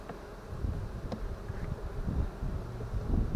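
Honey bees buzz around an open hive in a long-neglected apiary, a steady low drone with wind noise and occasional handling sounds.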